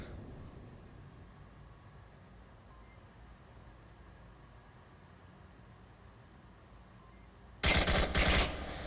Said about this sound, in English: blind firing around a corner